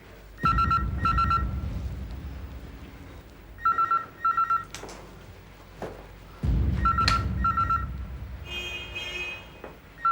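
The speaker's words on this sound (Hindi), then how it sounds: "उठाओ फोन।" A telephone rings in repeated bursts of two trilling pulses, fairly loud and close, with a low rumbling background between rings.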